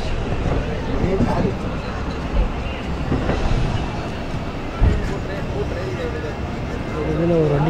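A train on the Tirupati to Chennai line rumbles steadily along the rails, a continuous loud rolling noise with occasional clanks and knocks from the carriages.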